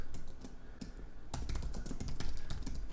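Steady clattering of keys on a computer keyboard, a close, busy run of keystrokes that grows slightly louder toward the end, with no voices.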